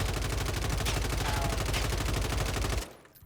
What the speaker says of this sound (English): I shoot this dummy. And I'm gonna just control the recoil and show you how easy it is to beam with.